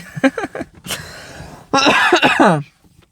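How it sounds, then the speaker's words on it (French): A person coughs a few times, short harsh bursts followed by a longer raspy throaty cough, close up. "Je tousse parce que parce que je tousse"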